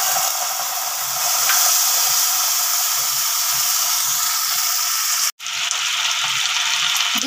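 Ginger and tomato paste with spices frying in hot oil for fish-head moong dal, a loud continuous sizzle and hiss close up, briefly cutting out near the end before resuming.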